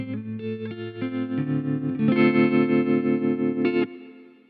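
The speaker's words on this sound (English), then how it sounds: "A very usable trem. I think it's beautiful. It's warbly and there's no loss of volume overall." Electric guitar through the tremolo effect of a Boss Katana-Mini X amp, chords pulsing with a steady warbly throb, loud and up close, ringing out and fading at the end.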